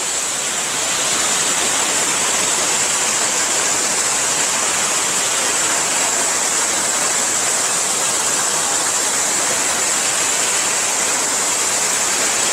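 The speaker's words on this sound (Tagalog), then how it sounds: "Ang lakas ng buga ng tubig dito," Powerful water jets roar steadily at a hotel water spa, a dense continuous rush of splashing water close by, with no other sounds over it.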